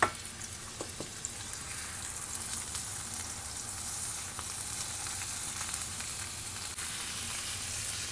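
Medium ground beef added to translucent onions sizzles in a pan on the stove, a steady, soft hiss of frying that continues evenly throughout with occasional small crackles and no talking.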